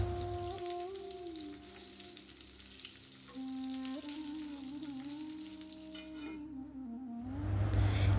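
Bitter gourd (karela) fries in a covered pan over low heat, giving a soft, quiet sizzle under a faint tonal hum, with the crackle growing louder and fuller toward the end.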